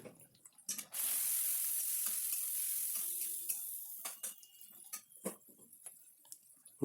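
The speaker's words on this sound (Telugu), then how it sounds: "అల్లం వెల్లుల్లి పేస్ట్ వేసి గోలిన తర్వాత అల్లం వెల్లుల్లి పేస్ట్ పచ్చివాసన పోయిన తర్వాత" Ginger garlic paste fries in a pan for a red lentil and tomato dal, a loud steady sizzle kicking in after a brief pause and running on with scattered stirring clicks and scrapes, no voices.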